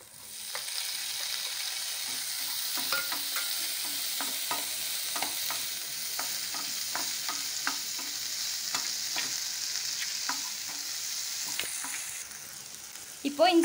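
Tomatoes frying and being stirred in a pan for a spicy egg gravy: a steady sizzle with repeated scraping strokes of a spatula throughout, close and fairly loud, no voices.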